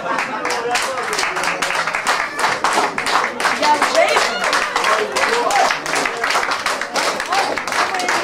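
Audience applause at a Ukrainian folk band's comic table-song performance, a dense sustained wash of many hands clapping at close range, steady for the whole stretch with slight swells, with faint speech mixed in.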